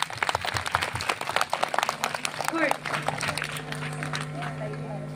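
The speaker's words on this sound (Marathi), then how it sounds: "त्यांच्यासाठी मी टाळ्या वाजवू का? तुम्ही पण टाळ्या वाजवू शकता." Scattered clapping from a group at a school celebration event, a loose run of claps over roughly the first three seconds, moderately close, fading out into a quiet room.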